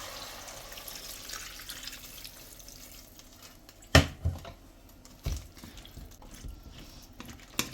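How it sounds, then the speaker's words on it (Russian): Water poured into a pot of zucchini and vegetables, a steady splashing flow close by, with a few sharp knocks and clunks as it fills. "И заливаем водой, чтобы покрывало овощи."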